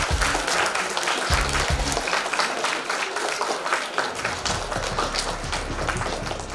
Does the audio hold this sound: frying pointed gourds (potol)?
no